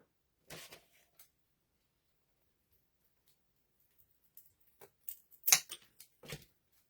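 Scissors cutting material for an Americana wool spool craft, a few quiet, sparse snips and rustles separated by long silences, with a brief cluster of clicks near the end.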